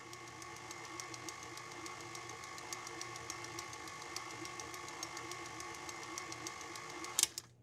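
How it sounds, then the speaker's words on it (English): Stand mixer fitted with a dough hook kneading soft dinner roll dough, a steady mechanical whir with a regular clicking rhythm throughout, close and moderately quiet, ending in a brief clatter. "So I'm using my stand mixer with the dough hook attachment"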